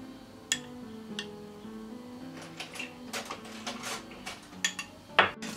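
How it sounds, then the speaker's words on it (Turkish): Yogurt sauce ingredients with thyme, salt and garlic oil whisked in a bowl, giving close, irregular clinks and scrapes of utensil against the dish that come thicker toward the end. "Evet arkadaşlar, malzemelerimizi çırpıyoruz"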